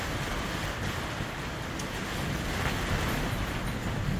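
Strong storm wind with gusts near 60 mph roars steadily at a marina, a dense loud broadband rush of wind and rain that swells slightly with the gusts, with no voices.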